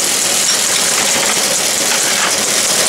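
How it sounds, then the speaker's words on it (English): A belt-driven screw machine in a machine shop runs at about 1700 RPM, with its motor and flat-belt drive mounted overhead, giving a steady, loud, continuous mechanical drone with a constant vibrating hum throughout. "it's being driven here by a flat belt, and the motor and the drive is up above"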